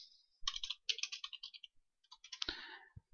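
Quick bursts of keystrokes on a computer keyboard as item details are entered, close and crisp, with short pauses between runs and a couple of heavier key thumps near the end; no speech.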